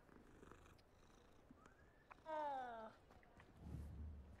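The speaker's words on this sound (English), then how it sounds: "Oh, it's a cat." A cat purrs and gives a short, falling vocal cry during a Hogwarts Legacy video game cutscene, quiet and close over faint game background sound.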